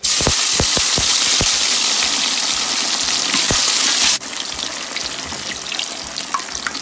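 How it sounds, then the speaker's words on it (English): Sea snail hitting hot oil for Tobaski Eid red benachin, a loud, steady sizzle with a few sharp pops and spatters early, then a slightly quieter continuous frying hiss. "I'm first going to throw in the sea snail. So I will first throw in that and fry it for 1 minute before adding in my beef."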